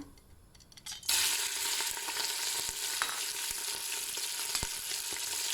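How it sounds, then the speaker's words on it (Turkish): Meat hits hot oil in a Fissler pressure cooker and a loud, steady sizzle erupts, continuing strongly with occasional pops and scrapes. "Öncelikle etimi mühürleyeceğim."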